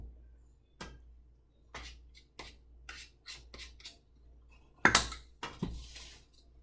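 A utensil scrapes and clinks against a dish while scooping filling into zucchini, a string of short, close, fairly quiet taps and scrapes with a louder clatter near the end.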